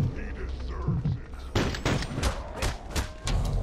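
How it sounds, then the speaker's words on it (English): Rapid bursts of gunfire in the video game Redeemer, loud and close, with repeated sharp shots and thuds tumbling over each other in a chaotic firefight. "I'm shooting at him"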